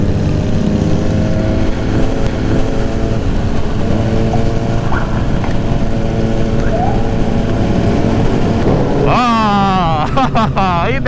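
Motorcycles ride along the road on a Sunday group ride from Makassar to Barru, with big sport bikes among them, a loud steady engine drone close by and a sharp revving surge near the end.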